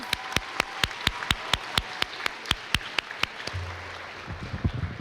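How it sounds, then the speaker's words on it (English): A single pair of hands clapping at a high school celebration in a steady, evenly spaced rhythm for a few seconds, then trailing off into faint shuffling noise. "Can we give her another round of applause"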